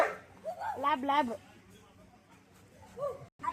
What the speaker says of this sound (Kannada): ನೋಡೋದ ಫ್ರೆಂಡ್ಸ್ ಲ್ಯಾಬ್ ನಾಯಿ ಫ್ರೆಂಡ್ಸ್.